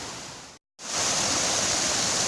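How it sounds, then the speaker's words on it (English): A waterfall rushes beside a hiking trail near Pine Swamp Branch Shelter in Virginia, a loud, steady broadband roar broken by one brief silent cut before resuming stronger. "You get beautiful waterfall"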